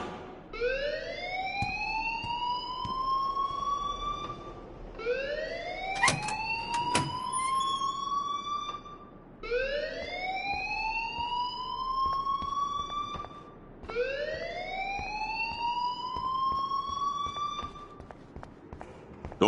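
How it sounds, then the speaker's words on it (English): A fire alarm siren in Life is Strange wails in a steady cycle, four loud rising sweeps about five seconds apart, with a brief sharp clatter in between. "please turn off that alarm since that's your job"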